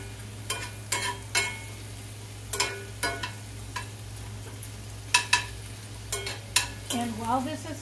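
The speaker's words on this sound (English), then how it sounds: "We've got these peppers and onions sauteing in here." Peppers and onions sautéing in a pan: a soft sizzle under repeated sharp clicks and scrapes from a utensil stirring against the pan, coming in irregular clusters over a faint low hum.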